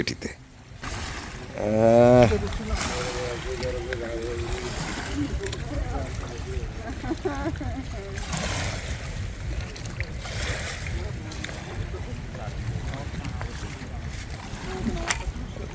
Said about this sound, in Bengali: প্রায় দেড় ঘন্টা ট্রলার চালিয়ে ফিরলাম